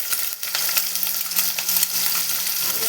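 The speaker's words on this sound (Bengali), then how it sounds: "এটাকে লাল লাল করে ভেজে নিচ্ছি" A large chopped onion sizzling in oil with nigella seeds, a steady close crackle broken by small irregular stirring clicks.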